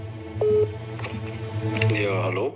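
A mobile phone sounds a series of beeping dial tones as a number is dialed, some tones sustained, with talking in the background at the same time.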